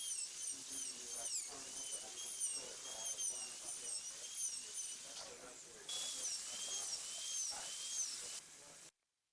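A high-pitched dental handpiece with a burr whines steadily while drilling an access cavity into a maxillary tooth, a faint continuous shrill tone with hiss that brightens midway and then cuts off.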